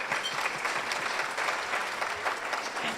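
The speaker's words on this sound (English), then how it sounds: "Can we give them a round of applause?" An audience at a game show event applauds contestants with steady, dense clapping lasting throughout, fairly loud and continuous.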